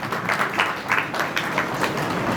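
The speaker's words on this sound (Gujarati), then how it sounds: "જોરદાર તાળીઓથી વધાવો।" An audience at a community gathering claps in a dense, steady burst of applause, fairly loud and continuous with rhythmic swells.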